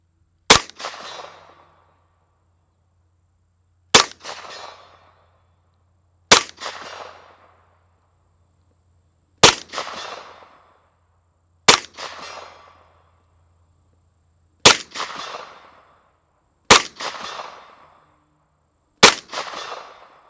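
Eight sharp 9mm shots from a MECHTECH Glock carbine, fired one at a time with pauses of two to three seconds between them, each loud report trailing off in a short echoing decay with no talk.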